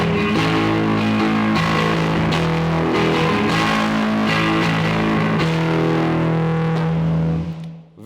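High-gain electric guitar through a Maekloeder Dual Channel 5000 pedal with the gain all the way up, giving a loud, growly, sustained distorted tone with strummed chords throughout before it cuts off near the end.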